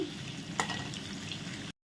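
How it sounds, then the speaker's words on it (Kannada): Steady sizzling of food frying in a pan on a medium flame, with a brief scrape of stirring partway through, then a sudden cut to silence. "ಚೆನ್ನಾಗಿ ಫ್ರೈ ಮಾಡಬೇಕು ಇದನ್ನು ಸ್ವಲ್ಪ ಹೊತ್ತು ಮೀಡಿಯಂ ಫ್ಲೇಮಲ್ಲಿ ಚೆನ್ನಾಗಿ ಫ್ರೈ ಮಾಡಿಕೊಳ್ಳಿ"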